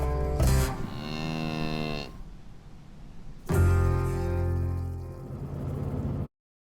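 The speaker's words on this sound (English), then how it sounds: "How great is the cow there at the end?" A cow moos twice outdoors, each call long, loud and close, separated by a brief pause, with the second low, drawn-out bellow ending abruptly.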